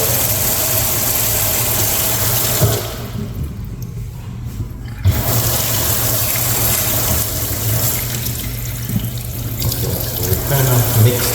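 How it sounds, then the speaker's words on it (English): A newly installed faucet in a salon suite runs into a sink with a loud, steady rush that cuts briefly and then resumes, over a low hum. "We got water now."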